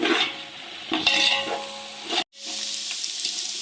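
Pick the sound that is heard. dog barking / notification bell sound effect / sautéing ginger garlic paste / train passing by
sautéing ginger garlic paste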